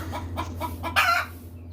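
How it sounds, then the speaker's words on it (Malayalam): Chickens cluck in short repeated bursts nearby, with one louder, drawn-out call rising above the rest. "എന്താ വലിയ കോഴിൻ്റെ ഒച്ചപ്പാട് കേൾക്കുന്നത്"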